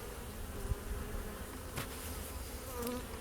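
Honey bees buzzing around an opened hive during an early-season inspection, a steady close drone of many wings with individual bees whining past the microphone, and no voices.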